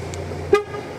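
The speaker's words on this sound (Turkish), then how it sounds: "Korna sesi bildirimi yapıyor." A single short horn chirp from a 2025 Ford Puma confirming locking sounds midway, brief and close, against a quiet background hum.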